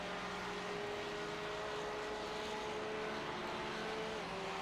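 Porsche and Ferrari GT3 race cars at the Nürburgring at night in a racing video game give a steady, unbroken engine drone with sustained tonal whine, holding at a constant level throughout.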